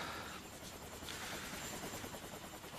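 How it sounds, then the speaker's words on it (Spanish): A helicopter flies overhead, its steady broadband rotor roar holding at moderate loudness throughout with no one speaking. "¿Un helicóptero?"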